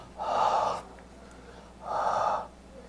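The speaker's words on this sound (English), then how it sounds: "I was breathing on it and it's not fogging up." Someone exhales hard onto ski goggles to fog the lens, two long, breathy huffs close to the microphone, separated by a short pause.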